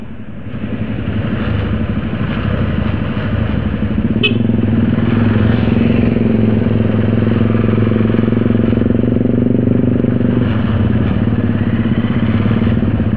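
Motorcycles on a Sunday morning group ride give a loud, steady engine drone heard up close and continuously, with a brief sharp click partway through.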